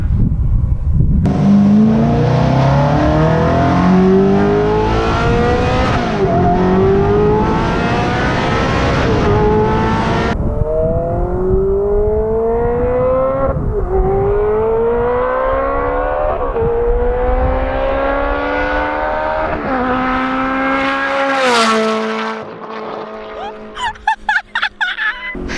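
A car engine with a newly fitted exhaust revs hard right after a cold start, loud repeated rising and falling throttle blips close by, settling toward a lumpy idle at the end.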